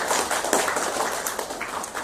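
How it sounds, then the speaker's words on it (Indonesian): Applause from a school audience of SMP Negeri 2 Palimanan students at a district school ceremony in Cirebon, a dense, steady patter of many hands clapping throughout, fairly close and without talk. "Tepuk tangan juga."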